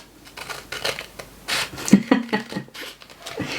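Scissors snip and rustle through packaging, with several uneven crisp cuts and crinkles at close range, fairly soft, and no talk over them.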